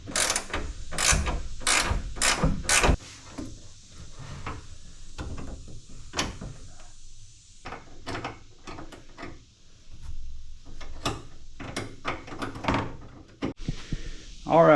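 A ratchet tightens bolts on a hood lift kit, giving close, rapid clicking bursts of pawl ratcheting in uneven runs between pauses, mixed with metallic handling clunks.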